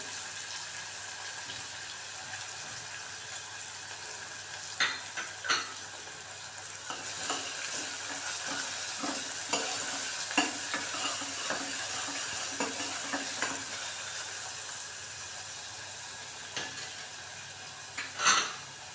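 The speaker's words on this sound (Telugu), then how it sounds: "ఫస్ట్ ఉల్లిపాయలు వేస్తున్నాను సన్నగా కోసాను" Thinly sliced onions fry in a pan with a steady, even sizzle, broken by intermittent spoon scrapes and light clinks against the metal, close and alone without talk.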